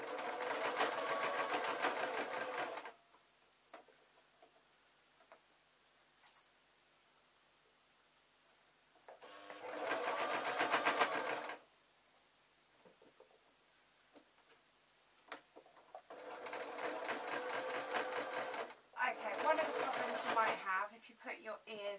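A sewing machine stitches a zebra draft excluder in three separate bursts, pausing between runs while faint handling clicks fill the gaps.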